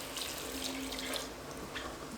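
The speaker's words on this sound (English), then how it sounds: "We're going to add about 6 cups of water," Water runs steadily from a tap into a soup pot, six cups for a plant-based chickpea and red lentil soup; a continuous close splashing stream with no talk.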